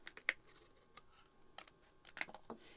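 Scissors trimming a paper card for a craft kit, with several quiet, crisp snips spaced irregularly and alone against a near-silent background.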